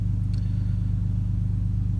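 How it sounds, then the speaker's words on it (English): A big gas-guzzling truck idles nearby, a steady deep low rumble that holds constant and fills the background without pause, with no voices over it. "There's one of those big gas guzzling trucks nearby rumbling"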